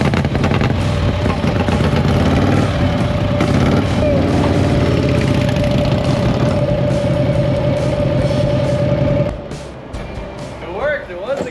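A Panhead motorcycle engine runs steadily up close, low and rumbling with a loud, even tone for about nine seconds before dropping away, while people talk over it.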